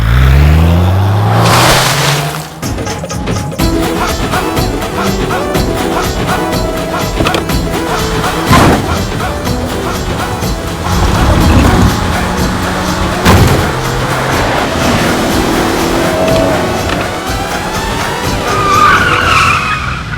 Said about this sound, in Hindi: इंदु जी, आप गाड़ी बड़ी अच्छी चलाती है।